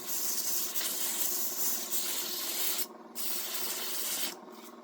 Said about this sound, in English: This isn't super exciting. Just sanding.